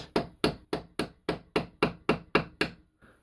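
Ten sharp hammer blows on a knife blade being forged land at a steady, even rhythm, each a loud crack that quickly decays, followed by a brief quiet pause.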